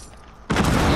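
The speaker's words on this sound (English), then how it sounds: "Grenade launcher?" A grenade launcher round explodes in a video game firefight, a sudden loud blast cutting in halfway and leaving a dense, roaring wash of noise.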